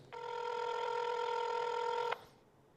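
A single telephone ringback tone sounds while calling a prize winner, one steady electronic tone lasting about two seconds, clear and alone over faint background hiss.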